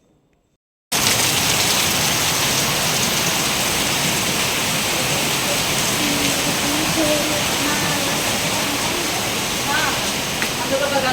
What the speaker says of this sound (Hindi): इतनी तेज़ बारिश हो रही थी